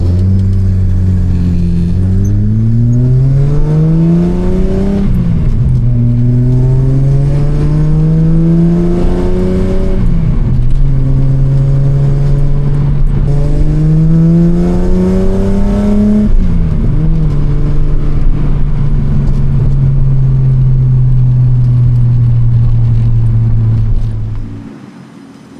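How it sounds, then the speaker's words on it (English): Datsun 280Z running a FAST EZ EFI engine management system, driven through several gears: the engine revs up repeatedly with rising pitch, drops at each shift, then cruises steadily, loud and close from inside. "let's go for a bit of a drive"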